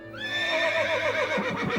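A horse neighs loudly and close, a single drawn-out whinny that wavers and trails off into a rougher snort near the end, alone with no talk.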